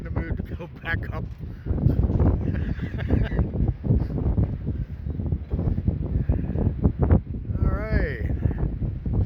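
Strong gusts of wind buffet a bike rider on a seaside boardwalk during a windstorm, a rough rumbling roar on the microphone that surges and holds, with someone talking through it.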